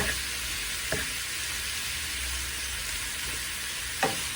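A ground beef and Italian sausage sauce cooks in a pan on a lowered flame with a steady soft sizzle, broken by a few light clicks of stirring.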